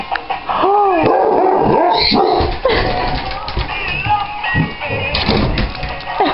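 A dog whines and whimpers with rising, wavering cries, breaking into a few sharp barks, close by, with scattered human speech mixed in.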